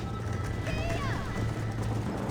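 Horse hooves clip-clop at a gallop in Red Dead Redemption, a steady rhythmic beat running under talking voices throughout.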